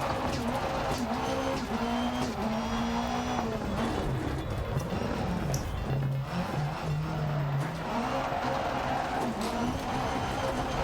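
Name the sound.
rally car driving and skidding in video game Dirt Rally 2.0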